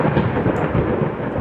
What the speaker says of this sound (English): Thunder in the creepy house.